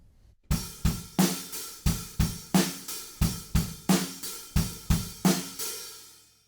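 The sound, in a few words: drum beat with open, slushy hi-hats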